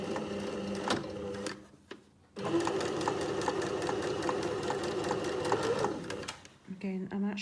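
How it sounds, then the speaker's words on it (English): Sewing machine stitching a curved hem close to a folded edge, a fast steady mechanical whir with a brief pause partway through and someone talking over it. "So I'm stitching quite close to this edge."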